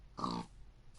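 A pig in Minecraft gives a single short, low grunt, close and moderately loud, with a faint trailing snort just after, no voices.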